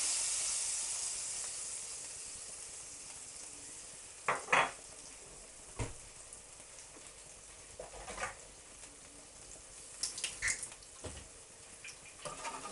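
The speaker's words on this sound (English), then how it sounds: "just want to sizzle the flour for about a minute, just to cook it." Steady soft sizzling hiss of flour and a stock cube in a hot roasting tin over low heat, with occasional scraping and stirring clatters, fairly quiet and without talk.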